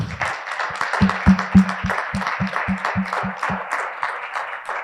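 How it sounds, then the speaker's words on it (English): An audience at a conference session applauds its panelists, a few close, sharp hand claps standing out in a quick rhythm over a softer crowd wash that tapers off after about four seconds. "Round of applause for our panelists"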